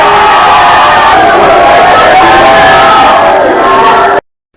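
A large crowd loudly cheers and applauds in an ovation for the head of state after prayer, a dense roar of voices and whoops sustained for about four seconds before cutting off.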